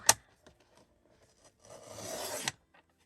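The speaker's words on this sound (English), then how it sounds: "we'll turn this around and trim this side down too" Paper is trimmed for patchwork tag embellishments, a single sharp snip followed by a rasping slide of about a second, close and quiet.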